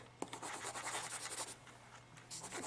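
Oil pastel stick rubbed on paper to clean off its surface, a close, continuous dry scratchy scraping with quick back-and-forth strokes and a sharp tap at the start, quiet and alone.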